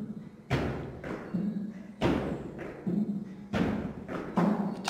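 Heavy thuds land at a steady rhythm during box squat jumps in a workout, roughly one every second or so, each followed by a short softer landing knock, fairly close.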